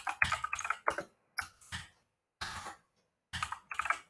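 Rapid bursts of keystrokes on a computer keyboard while HTML code is written, clustered clicks separated by short silent pauses, close and clear with no talking.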